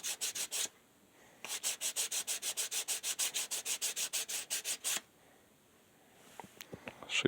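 Wood is rubbed with 80 grit sandpaper in a steady run of quick back-and-forth scratchy strokes, close and moderately loud, then a pause and a few faint scrapes.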